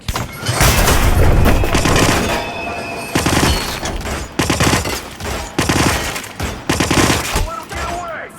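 Rapid gunfire crackles in the Hitman video game, with dense bursts of shots and booms layered over each other and steady in-game commotion and voices mixed underneath.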